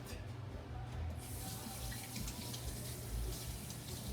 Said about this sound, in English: I'm actually putting in hot water so it heats up a little faster